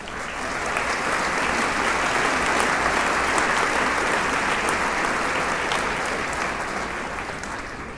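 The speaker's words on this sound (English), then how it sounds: "How about a round of applause?" Steady, full applause from a large crowd at a high school commencement ceremony, a dense continuous roar of clapping that swells in and holds evenly throughout at moderate loudness.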